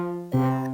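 A single sustained note from the Ableton Wavetable synthesizer, a steady harmonic tone that swells brighter partway through with shifting movement in its upper partials, played alone.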